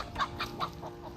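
A rooster clucks nearby in a short run of five or six quick, soft clucks, fairly faint against quiet background noise.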